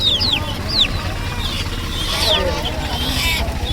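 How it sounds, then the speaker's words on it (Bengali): Small native chicks and chickens at a village poultry market give thin high peeps and clucks in short bursts, over a steady low hum of crowd noise and nearby chatter. "এখানে বাচ্চা আছে একদম জিরো সাইজের দেশি"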